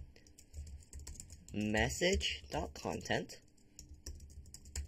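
Keys on a computer keyboard clatter in quick, light taps close to the mic while someone talks over them.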